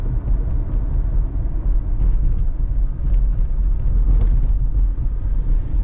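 A 1985 Buick Riviera rolls over railroad tracks, giving a steady low interior rumble with a few faint soft bumps, the cabin otherwise quiet and without talk.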